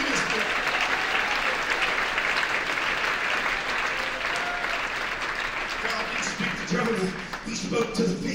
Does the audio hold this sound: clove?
no